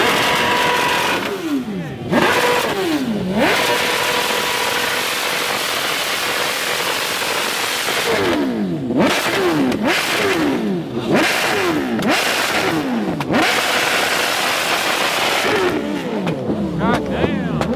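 Engines rev repeatedly at a car meet that turns into a takeover, with a Mustang among the cars and motorcycles also revving; loud rising and falling bursts come in clusters over steady crowd noise and talk.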